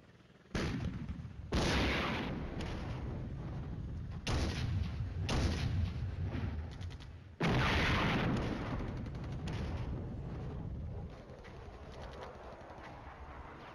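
Artillery fire in the wargame Flashpoint Campaigns: Red Storm, heard as a series of loud, heavy booming barrages with rumbling decays, several bursts in succession over about twelve seconds.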